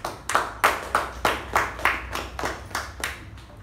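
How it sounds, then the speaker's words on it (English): A small meeting audience claps for themselves, about a dozen distinct, evenly spaced claps ringing close and clear with no talk. "can you please give yourselves a nice round of applause?"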